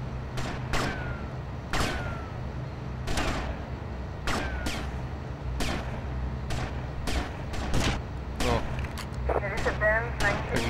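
Gunfire in the video game GTA Vice City: sharp, loud shots fire in irregular bursts and single cracks across the scene, with echoing tails and a low background hum; a voice talks briefly near the end.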